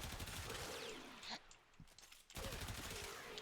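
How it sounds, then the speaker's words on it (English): Sustained automatic gunfire from a rifle with a 75-round magazine in the Warframe shooter game, a dense rapid stream of shots that breaks off for about a second mid-burst, then resumes at full loudness. "You can just keep shooting and keep killing."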